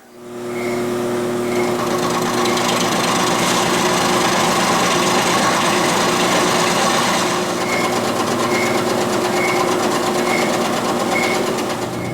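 A milling machine fitted with a 1/2 inch Niagara end mill squares up metal stock, producing a loud, steady whirring cut with a faint repeating tick over its length.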